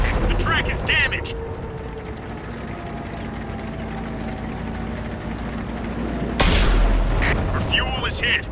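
A tank's engine rumbles steadily in the World of Tanks video game, then a single loud, booming cannon shot bursts out near the end, with faint game voices and effects around it.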